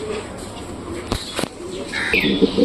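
Pigeons in a pigeon loft give low, soft coos and rustling calls close by, with brief sharp knocks and a steady background hum.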